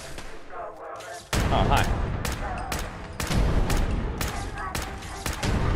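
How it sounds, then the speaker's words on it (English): Gunfire from Fallout 4's Nuka World add-on rattles off in rapid, loud bursts of close shots, a steady barrage running over background game noise, with a brief spoken greeting near the start. "Getting shot at."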